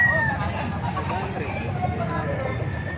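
Chickens clucking and calling in a noisy, crowded market in Bocaue, Bulacan, with a steady babble of voices and background commotion throughout.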